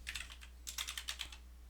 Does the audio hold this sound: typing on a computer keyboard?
yes